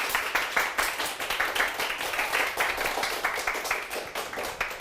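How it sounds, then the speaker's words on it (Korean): A studio audience at a Korean lecture talk show applauds, a dense and steady patter of many hands clapping throughout, fairly faint with no talk over it. "여러분 큰 박수 부탁드릴게요."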